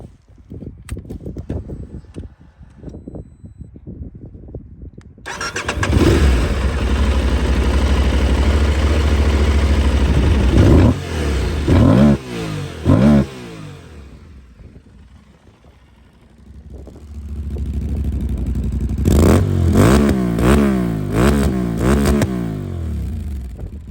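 An Aprilia Tuareg 660 motorcycle fitted with an Akrapovic exhaust sits quietly, then revs hard in loud sustained bursts, drops back to idle, and blips the throttle again in a series of sharp, throaty revs close by.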